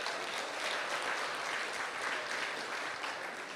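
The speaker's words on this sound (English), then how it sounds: "round of applause for them for doing that" Audience members at the Arctic Indigenous Investment Conference gala in 2022 give a steady round of applause, a dense, even wash of clapping at moderate distance that holds for a few seconds without talk.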